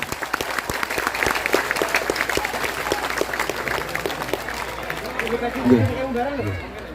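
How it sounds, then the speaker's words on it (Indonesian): Applause from an audience at an Islamic religious gathering in Changhua, Taiwan, steady dense clapping carrying for several seconds with crowd chatter underneath, thinning toward the end as voices rise. "Tepuk tangan untuk BMI, keren ini."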